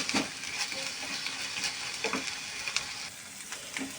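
Vegetables fry in a pan with a continuous close sizzle and crackle. Light scattered stirring scrapes and taps come through the hiss.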